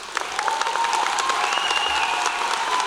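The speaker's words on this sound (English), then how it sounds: "Please give them a round of applause" Graduation audience at Enterprise High School and Adult Education applauding school staff, a steady, dense wash of many hands clapping throughout, fairly loud and continuous with no talk over it.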